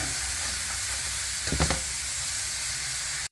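Campfire beans stirred in a pan, a constant close sizzle and hiss with a brief louder scrape of stirring midway.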